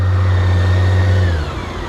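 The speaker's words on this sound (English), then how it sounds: "hit the reverse, and we press the starting motor, and back it goes" A 2022 BMW K1600 GT motorcycle creeps backward on its starter motor, a steady close mechanical whine and hum with a low drone that drops away near the end.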